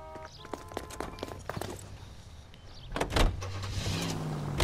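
A car in the video game L.A. Noire: a door thunks shut and the engine starts up and pulls away, with soft clicks and movement sounds before it, fairly close and moderately loud.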